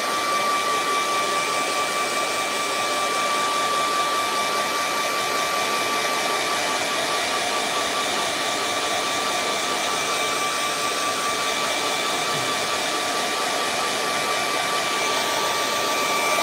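A hair dryer blows steadily over a freshly painted waterfall scene, a loud, continuous close-up whoosh with an even, unbroken drone from start to finish.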